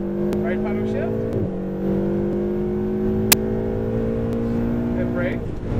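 Ferrari 488 GTB engine pulling hard under acceleration, a steady rising mechanical drone with a brief dip at a paddle upshift, then climbing again, loud and close, with an instructor's voice coaching over it.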